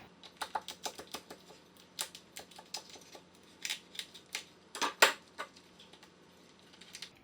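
A cooked lobster tail's shell is peeled away by hand: a quick run of crisp, dry clicks and cracks, close up and fairly quiet, with a louder snap near the end before a few softer ticks.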